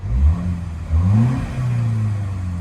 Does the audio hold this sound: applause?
no